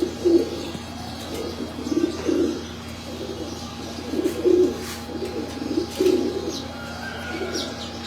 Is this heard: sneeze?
no